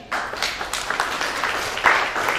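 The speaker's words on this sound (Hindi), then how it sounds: "वेरी गुड, इनके लिए तालियां।" A short burst of applause from a small group, scattered claps pattering quickly.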